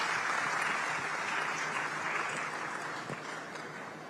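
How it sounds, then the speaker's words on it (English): Audience applause at a diaspora culture plenary session, a continuous, even wash of clapping heard from a distance at a modest, steady level that fades slightly toward the end. "A round of applause, please."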